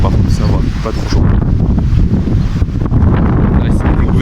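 Strong wind buffets the microphone outdoors on Crete, a steady heavy roar with gusty surges and a person talking faintly beneath it.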